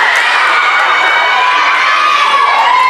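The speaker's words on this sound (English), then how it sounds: "the crowd lights up like a firecracker" A large crowd at a volleyball match cheers and shouts loudly, a sustained roar of many voices with rising excitement throughout.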